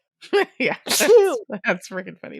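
A sneeze bursts out in the middle of conversation, loud and close. Speech continues around it.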